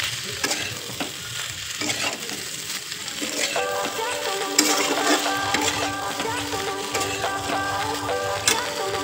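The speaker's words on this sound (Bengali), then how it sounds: "আলুটাকে একদম মশলা দিয়ে কষা কষা করব, কষাবো আলুটাকে" Potatoes stir-fried with ground cumin and chili paste in a hot pan, a continuous loud sizzle broken by the scrape and clatter of stirring, with a tonal hum running underneath.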